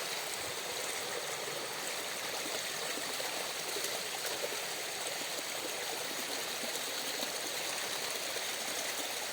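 A forest stream at Malamalkavu chola rushes and burbles in an even, unbroken wash, steady and fairly close, with no voices.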